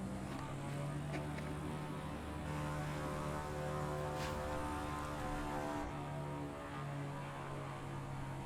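An Extra 330 LT propeller aircraft in Microsoft Flight Simulator 2020 on a flight over central Arkansas drones with a steady, even engine and propeller hum throughout, constant in level with slight tonal shifts.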